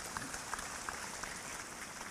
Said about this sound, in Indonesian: Tepuk tangan untuk Palangkaraya.